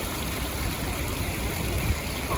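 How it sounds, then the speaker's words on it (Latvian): A small fountain splashing by the arched entrance doors of the Sheikh Zayed Grand Mosque, a steady close trickling and splashing wash that continues without a break and without any talk. "Tāda lūk šeit skaista straublatiņa."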